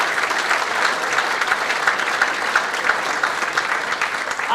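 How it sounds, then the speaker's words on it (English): Steady applause from a dinner audience, many hands clapping densely and evenly for the whole stretch, loud and close with no voices standing out. "Would you give a nice round of applause to Mick Spratt and the Wigwam Acoustics team"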